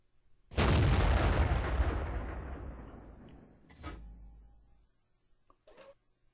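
A heavy tank cannon blast in World of Tanks booms loud and close, its rumbling tail fading over a few seconds, followed by a short metallic clank and another brief crack.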